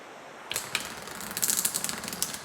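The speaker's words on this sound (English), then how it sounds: "So the cards shuffle very nicely." Rapid papery riffling of an oracle card deck being shuffled, a fast flurry of soft clicks and flutters close to the microphone.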